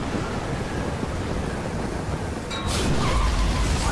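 Hurricane-force wind roars in Battlefield 4's Singapore level, a loud, steady rushing noise that swells into a heavier gust near the end.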